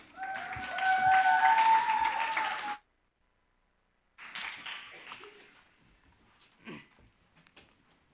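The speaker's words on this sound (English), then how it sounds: "Please give him a round of applause." Audience applause for a contestant at an English speaking contest in Ulsan, a burst of clapping lasting under three seconds, followed by silence, then quieter hall sounds with a voice beginning to speak.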